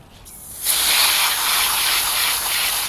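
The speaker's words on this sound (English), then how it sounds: "You can also spray it down with the water like this." A steady hiss of water spraying onto a hot pepper plant starts abruptly after a brief quiet moment and continues evenly, close and fairly loud.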